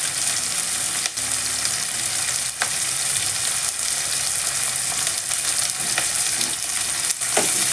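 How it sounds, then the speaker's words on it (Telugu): Onion and green chilies frying in a pan, a loud continuous sizzle with occasional sharp crackles and stirring clicks, heard alone without talk. "ఈ ఉల్లిపాయ, పచ్చిమిర్చి కాస్త వేగాలి."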